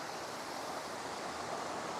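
A forest waterfall behind rhododendrons, heard from a distance as a steady, unbroken broadband rush of falling water that stays even throughout with no voices.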